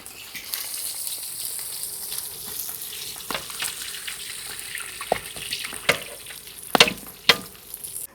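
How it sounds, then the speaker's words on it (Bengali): Potatoes frying in hot oil that has just cooked fish heads, in an outdoor cooking setting, with a steady crackling sizzle and sharper splatter bursts near the end, heard up close with no talk. "এবার এই তেলেই আমরা আলুটা ভেজে নিই।"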